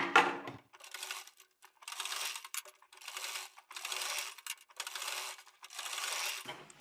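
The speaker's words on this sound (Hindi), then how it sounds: "तो चलिए अब हम आपको सिलाई करके दिखाते हैं एंकर धागे की।" A sewing machine stitches with anchor thread in short bursts of rapid whirring, about six runs separated by brief pauses, fairly quiet and close with no talking.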